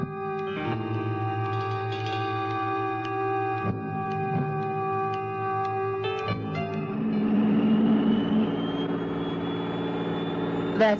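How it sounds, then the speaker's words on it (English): A jet engine drones steadily with a layered tonal whine and rumble, the pitch climbing and the roar swelling toward the end. "That's the sound of an ordinary jet"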